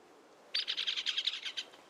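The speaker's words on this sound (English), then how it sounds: "That bird was so loud" A loud, close bird chirp in the zombie survival game Project Zomboid: a rapid string of about a dozen shrill, evenly spaced tweets lasting just over a second after a quiet start.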